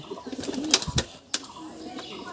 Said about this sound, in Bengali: এই দেখুন কত সুন্দর পায়রা